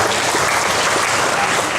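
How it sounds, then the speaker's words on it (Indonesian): A crowd at a migrant workers' gathering claps in a brief, dense, even burst, loud and continuous with no voices on top. "Tepuk tangan ini."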